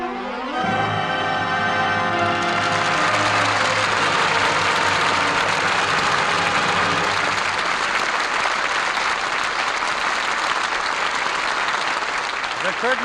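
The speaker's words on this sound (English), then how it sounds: "that applause is our thanks to a stellar cast for their really fine performances" Music and dialogue ending a 1950 Lux Radio Theatre broadcast of All My Sons give way to a swelling studio audience ovation, loud sustained clapping that fills the rest of the time.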